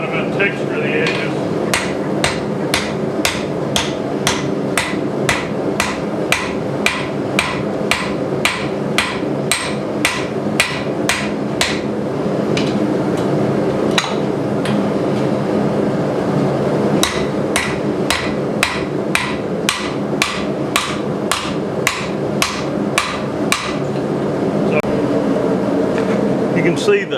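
A blacksmith hammers metal to texture the edges of a chain stand piece, sharp ringing strikes in steady runs with short pauses, close and loud over a constant fan or air-conditioning hum.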